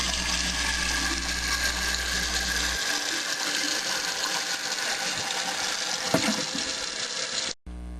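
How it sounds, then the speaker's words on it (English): A standard toilet flush with a flapper valve in the tank: a loud, close rush of water swirling and draining for several seconds, then the gurgle fades and the tank begins refilling. "now here is a typical flush"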